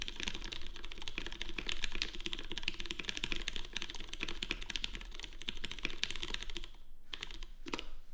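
Fast, steady typing on a custom mechanical keyboard with GMK white-on-black keycaps, stock springs, TX switch films and an aluminum plate: dense clacking keystrokes close up, continuous and alone, pausing briefly near the end.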